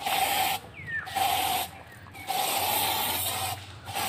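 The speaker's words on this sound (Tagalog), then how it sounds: "Ayan, i-sprayan natin yan." Aerosol spray aimed at ants near garbage, coming as several loud bursts of hissing separated by short pauses, with outdoor background noise between them.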